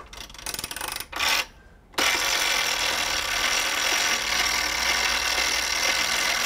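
A fire alarm box mechanism is wound, giving a short burst of mechanical ratcheting, a brief pause, then a steady whirring, rasping mechanical run that continues to the end.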